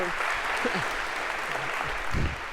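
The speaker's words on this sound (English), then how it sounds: "I think we give you a round of applause for having done that very well" A lecture hall audience of students gives a brief round of applause, a moderate wash of clapping with a few scattered thumps and low voice fragments mixed in beneath it.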